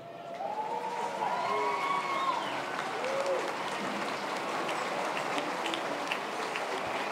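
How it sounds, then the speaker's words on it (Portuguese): An audience at the 2017 swearing-in ceremony of councillors and the mayor in Uberaba applauds a councillor, with steady loud clapping filling the whole stretch and a few faint cheers within it. "aproveitando a presença do vereador Rubério, gostaria que todos ficassem de pé e o aplaudissem"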